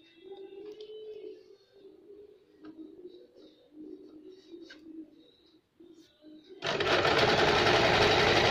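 A sewing machine starts up and runs loud and continuous while stitching a strip for a baby's halter neck frock, after several seconds of pigeons cooing softly in the background.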